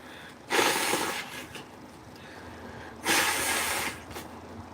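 Two loud, breathy nose blows into a tissue a few seconds apart, close by, each a rough rushing burst followed by quieter sniffing.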